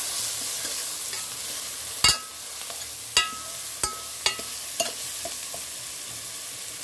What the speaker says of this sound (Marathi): आता हे आपल्याला चांगलं मस्त परतून घ्यायचं आहे